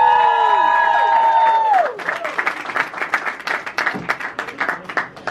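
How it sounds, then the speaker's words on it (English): Audience at a YouTube Black celebration event clapping and cheering, a tone or musical sting fading first, then steady applause from a crowd filling the room, loud and continuous. "I think we can clap a bit there."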